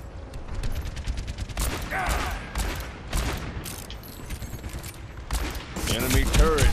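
McCree fires his revolver in the video game Overwatch during a busy fight: dense, repeated gunshots and effects crackle throughout, mixed with other game sounds and voices.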